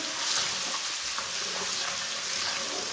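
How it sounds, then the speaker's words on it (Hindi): Semolina roasts in a pan for egg and semolina halwa, giving a faint, steady dry hiss with soft stirring. It is quiet and close, with no talking. "सौंगी को भी 1 मिनट तक भून लेंगे।"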